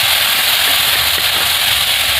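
Water is poured into a hot pan of sautéed spices for a shrimp and poppy-seed dish with fresh susni greens, bursting into a loud, steady steaming hiss that fills the moment close up.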